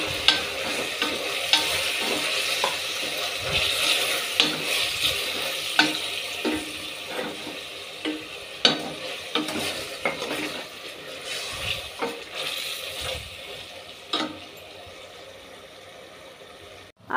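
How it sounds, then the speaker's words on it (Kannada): Mutton pieces fry with a handful of mint leaves and salt for a military hotel style curry, giving a constant close sizzle broken by repeated scraping stirs of the spoon in the pan. "ನೀರು ಬಿಡೋವರೆಗೂ ಇದನ್ನು ಫ್ರೈ ಮಾಡಬೇಕು"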